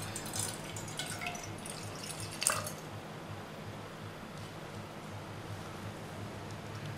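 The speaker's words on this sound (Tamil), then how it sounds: "அதில் 1 கப் அளவுக்கு தண்ணி சேர்த்துக்கலாம்." Water is poured into a pot sitting on a stove, a soft, steady trickling splash close by with a brief sharper splash partway through and a low hum behind it, no voices.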